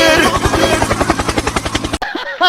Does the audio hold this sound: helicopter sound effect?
yes